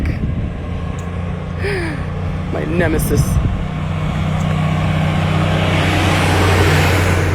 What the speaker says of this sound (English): This truck.